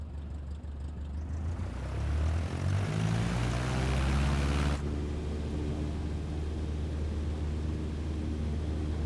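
Cessna propeller aircraft in Microsoft Flight Simulator 2024 departing runway 25 at Santa Barbara, its engine droning steadily and building to a loud, rising roar before easing to a constant hum.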